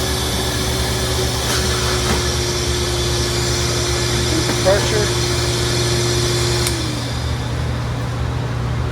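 A vacuum seeding machine runs steadily in a greenhouse, a continuous motor hum and whine that holds across the stretch before dropping in pitch near the end as it shuts off, with a person speaking briefly over it.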